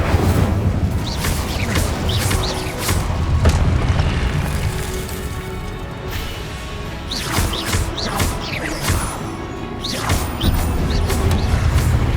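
Fire and explosion spells cast in Hogwarts Legacy: a rapid barrage of loud, close booms and fiery bursts, one after another with whooshing tails, nearly continuous throughout.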